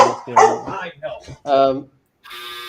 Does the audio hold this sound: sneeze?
no